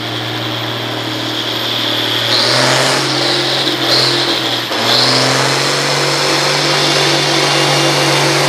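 A 1961 John Deere 4010 tractor revving hard at a pulling competition, its loud, steady engine drone rising in pitch as the throttle is bounced, with continuous roar throughout and no talk.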